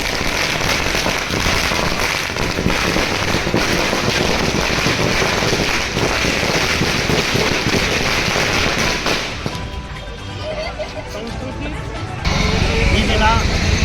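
Firecrackers crackle and burst in rapid strings at an outdoor BJP victory celebration, with wind buffeting the microphone and people talking over the noise; the pops thin out before a louder burst returns near the end.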